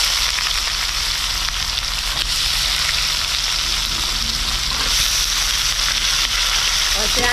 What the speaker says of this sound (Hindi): प्याज को लाल से भूनते हैं